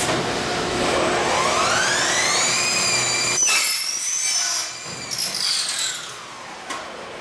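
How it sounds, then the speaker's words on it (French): A cutting machine slices through pre-bent pieces, giving a loud sustained whine with a rising pitch that ends abruptly, followed by quieter rattling and clunking from the workshop. "La machine, elle sert à couper des morceaux qui sont cintrés préalablement."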